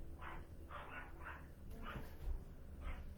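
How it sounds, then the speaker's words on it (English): A dog barks indoors: five separate, evenly spaced barks at moderate loudness, somewhat distant, with a low room hum underneath. "I don't know what she's barking at. Anyway, gotta go. Dog's barking."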